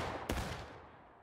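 A company of reenactors firing a single volley of muskets at an outdoor event, one sharp loud crack followed by a long rolling echo that fades away.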